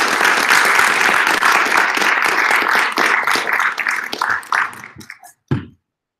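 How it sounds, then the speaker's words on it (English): Attendees at a talk on building smart robots give the two speakers a warm round of applause, loud, full clapping that carries for several seconds before tapering to a few scattered claps and silence. "Let's give both our speakers a nice round of applause."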